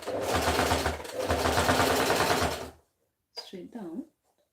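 A sewing machine runs steadily for nearly three seconds as it stitches fabric, loud and close, then stops; a voice speaks briefly afterward.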